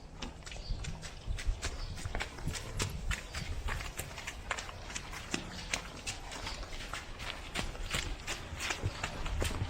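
Several horses clip-clop on hooves as they walk out to pasture at a stable after a winter storm, a steady uneven patter of hoofbeats at close to middle distance with no talk.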